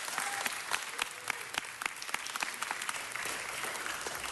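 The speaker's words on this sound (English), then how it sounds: "Please give her a round of applause" An audience at a city council meeting gives a round of applause, scattered claps ringing out over a steady crowd bed, moderately distant and fairly quiet throughout.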